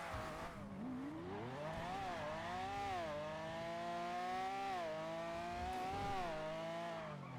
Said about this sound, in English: I got the stupid ass engine thing where it's just redlining